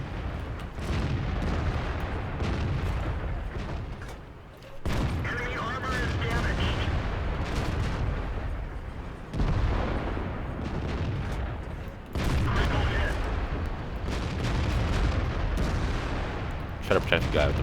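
Tank cannon fire and heavy explosions in World of Tanks during a battle, with repeated booming blasts under constant rumbling game noise while someone talks over it.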